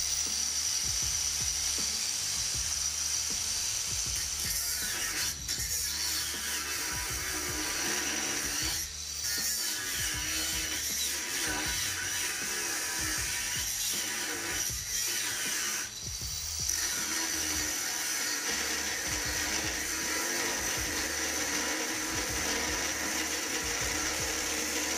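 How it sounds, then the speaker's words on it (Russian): A Procraft angle grinder, model PW2150 or PW1100, runs under heavy load, a continuous harsh mechanical grinding roar with rattling and brief dips where pressure eases, lasting throughout without speech. "давил на болгарку очень сильно"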